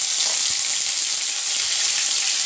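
Ginger dropped into hot oil already seasoned with cumin, bay leaf and asafoetida, giving a steady, close sizzle and hiss that runs unbroken with no talking.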